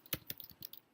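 Fingers type on a computer keyboard in about six quick, faint clicks within a second. The clicks are close and crisp and stand alone with no talk.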